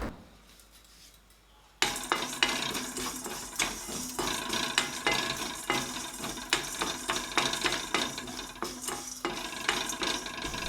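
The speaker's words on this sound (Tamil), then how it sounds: "நல்லா ஒரு மீடியம் ஃப்ளேமில் வச்சு வாசம் வர்ற அளவுக்கு நல்லா வறுத்தெடுத்துக்கலாம்" Dry rattling and scraping of whole spices dry roasted over a medium flame in a metal pan, with repeated clinks and scrapes that continue steadily after a quiet start.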